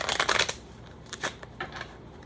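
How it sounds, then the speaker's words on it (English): A thick deck of tarot cards is shuffled by hand, with a dense riffling burst at first followed by several softer, separate card flicks and slides, close and fairly quiet. "I want to make sure I shuffle them cards really good."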